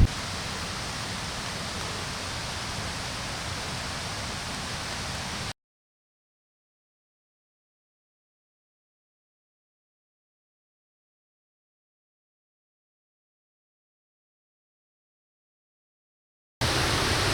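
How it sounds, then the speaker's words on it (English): A waterfall raging after heavy rain on the Overland Track near Kia Ora Hut, a steady broadband roar heard for several seconds, then cut to silence before returning briefly. "You can hear the waterfall in the background raging on"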